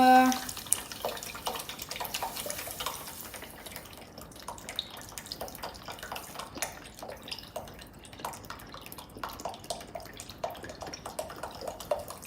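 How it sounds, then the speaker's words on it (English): Store-bought beef broth, about six cups, pours steadily into a cooking pot, a continuous close liquid splashing and trickling that tapers off, with little talk over it. "So we've poured in about 6 cups of store-bought beef broth."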